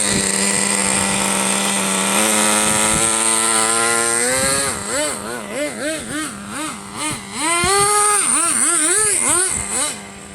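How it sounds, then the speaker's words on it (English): A Traxxas T-Maxx nitro RC truck, freshly rebuilt after a fuel leak fix, revs its small engine in a rising whine and then surges up and down in repeated rhythmic bursts, loud and close with no talking. "the reason why it's revving up like that"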